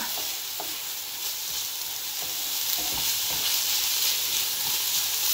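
Cabbage and onion sizzle loudly in a pan, a continuous bright crackle with occasional clicks and scrapes as the vegetables are stirred together.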